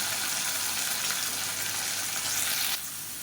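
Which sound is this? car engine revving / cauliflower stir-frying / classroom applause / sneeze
cauliflower stir-frying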